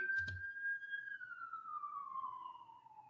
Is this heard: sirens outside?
yes